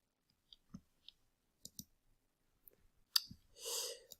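A computer mouse clicks while a website is browsed: sparse, crisp single clicks spread unevenly, a quick double click, then a brief soft rustle near the end. All of it is close and quiet.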